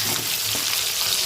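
Potatoes fry gently in hot oil seasoned with salt and turmeric, a steady soft sizzle that stays even and close throughout, with no talk over it.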